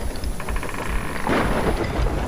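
Thunder rumbles during a storm at sea in the video game Sea of Thieves, a deep, loud roll swelling midway over steady rain-like noise, with no talking.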